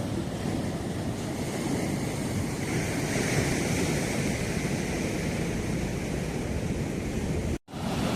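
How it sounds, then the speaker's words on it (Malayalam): Powerful sea waves at Azheekkal surge and crash in a loud, continuous roar heavy with wind buffeting the microphone, with a brief cutout near the end. "തിരമാലാണ്, നല്ല ശക്തി തിരമാലയാണ്,"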